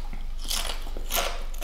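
Crispy fried bacon crunched in the mouth while eating, two short, close, dry bites heard alone.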